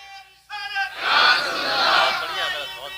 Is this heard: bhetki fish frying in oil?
no